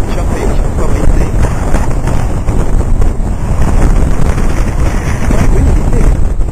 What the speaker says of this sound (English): Choppy, choppy sea.